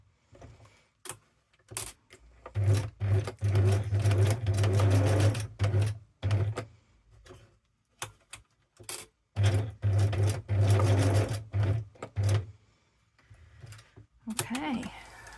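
A domestic sewing machine stitches fabric leaves in two sustained runs of rapid mechanical whirring, close and loud, separated by pauses with clicks and handling noises.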